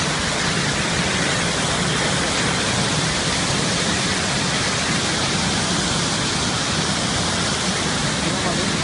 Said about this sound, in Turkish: Şelale manyak bir şekilde atlıyor.